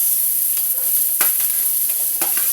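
Pork frying in a kawali pan for sisig gives a steady, close, bright sizzle throughout, broken by a few sharp scrapes and clacks from stirring, with no voices.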